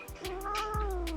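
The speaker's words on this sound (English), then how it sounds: "Hey there, cat." A cat gives a single drawn-out, wavering meow that rises and then falls, close and clear.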